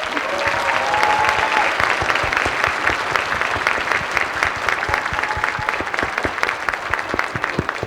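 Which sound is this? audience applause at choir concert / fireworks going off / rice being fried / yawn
audience applause at choir concert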